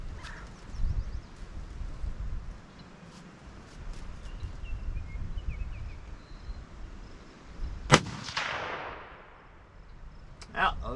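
A Ruger American Gen 2 rifle in 6.5 Grendel fires a single sharp, loud shot outdoors, its echo trailing off, with quiet ambient rustle and brief talk before it.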